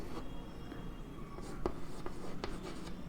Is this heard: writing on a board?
yes